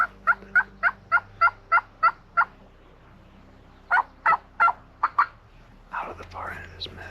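Wild turkey gobbling from a meadow during spring turkey season, a rapid rhythmic series of clucking gobbles, then another burst, moderately near, followed by people whispering.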